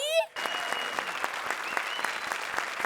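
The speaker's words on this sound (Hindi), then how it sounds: "जोरदार तालियां" Audience applause on a comedy stage show, a dense steady burst of many hands clapping that starts abruptly after a brief musical cue and carries on loud and unbroken.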